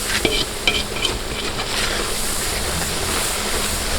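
Chili powder being stirred into a seafood boil sauce outdoors, a steady wet scraping and stirring with a soft sizzle running throughout, with a few sharper clinks near the start.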